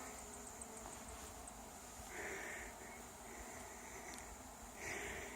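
A thick swarm of honey bees pouring out of an opened hive hums continuously, with louder buzzes swelling briefly as single bees fly near, then fading back into the drone.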